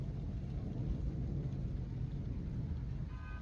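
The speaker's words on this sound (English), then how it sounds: "thunder and rain, so aborting for another hour." Low, continuous thunder rumbling over mountains during a rainstorm, a steady broad roar that holds evenly throughout without distinct claps, with no talking.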